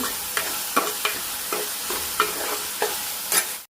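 Onions, salt and turmeric fry in hot oil as a tempering for tomato rasam, a steady close sizzle broken by regular spoon scrapes against the pan about every half second.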